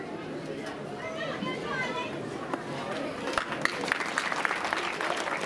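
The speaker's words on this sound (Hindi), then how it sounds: "सभी तालियां बजाएं और इस अभिनंदन में अपनी भागीदारी दें" Children and staff at the closing ceremony of a school under-14 boys' tournament applaud with steady, moderately loud clapping. Voices and crowd chatter run through it, and a few sharper claps stand out near the end.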